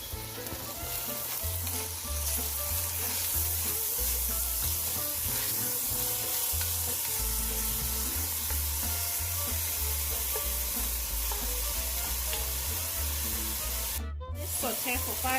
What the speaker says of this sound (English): Saute for 5 minutes, stirring time and again.